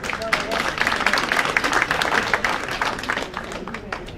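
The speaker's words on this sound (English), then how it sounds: "And let's give him a round of applause." Applause for a Missouri House District 23 candidate at a community breakfast gathering, a steady crowd clapping that swells and then gently tapers, with some voices mixed in.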